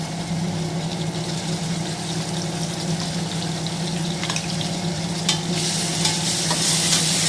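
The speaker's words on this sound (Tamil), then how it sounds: "இஞ்சும் வெள்ளைப்பூடும் போட்டோம்னா குக்கரில் ஒட்ட ஆரம்பிச்சிடும். நம்ம உடனே கிண்டி விட்டுறணும்." Ginger-garlic paste fries in a pressure cooker for tomato rice, a steady close sizzle with scraping stirs that grow sharper toward the end.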